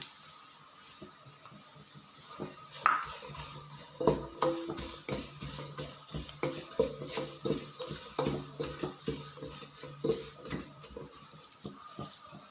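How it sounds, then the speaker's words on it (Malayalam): Torn dates sautéed in a pan for lemon pickle, with a spoon stirring and scraping in irregular clinks and soft knocks over a low sizzle, close and moderately quiet with no voices. "നാലായിട്ട് കൈകൊണ്ട് കീറിയെടുത്ത ഈന്തപ്പഴമാണ്. അത് നമ്മൾ ഇതിനകത്തോട്ടിട്ട് വഴറ്റുവാണ്."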